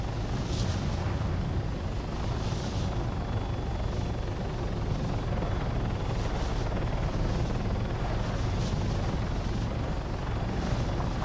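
A video-game helicopter drones on continuously with a rapid rotor chop, loud and steady throughout, with no voices over it.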